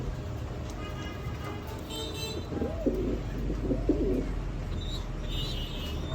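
A Red Lahori fancy pigeon of imported bloodline gives a couple of soft, low, rolling coos close by, over a constant hum of background noise with faint chirps from other birds.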